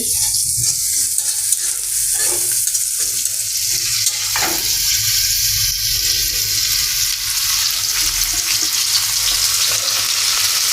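Rooftop-garden greens fry in a pan with a dense, even sizzle that holds steady and close for the whole stretch, with faint scraping stirs now and then and no voices.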